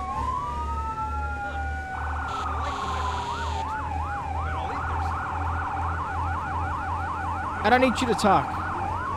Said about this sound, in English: Sirens on.